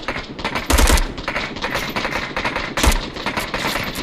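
Loud, dense automatic gunfire from the VR shooter Onward played on a Meta Quest 2, with heavier bursts near the start and again toward the end over continuous battle noise.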